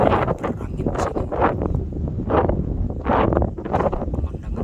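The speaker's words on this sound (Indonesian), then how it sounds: "Saya sedang berada di puncak gunung, saya coba kita lihat berangin di sini." Gusting wind on a mountain top buffets a Samsung S21+ phone microphone, rising and falling in rough loud rumbles throughout.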